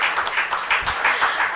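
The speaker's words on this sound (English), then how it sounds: "Can we give them a huge round of applause again," A live audience at a literature and arts festival in Bhopal applauds in a short, dense round of clapping that swells in uneven pulses, loud and close.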